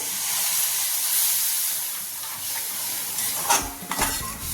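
Water poured into sizzling dabeli masala seasoned with red chili and salt, then stirred: steady hissing sizzle throughout, with sharper spattering bursts and scraping stirs near the end, close up and with no talk.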